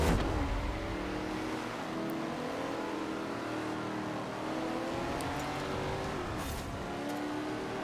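Engine of a car in a drag strip video game revs and accelerates, its tone climbing and dropping through shifts in a continuous loud drone.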